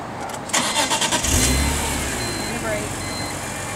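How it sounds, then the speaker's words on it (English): A 2007 BMW Z4 Roadster with a manual clutch cranks and fires up, a brief burst of starter pulses settling into a steady close idle, with voices talking around it. "Put the clutch down and start the car."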